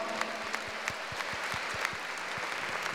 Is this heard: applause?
yes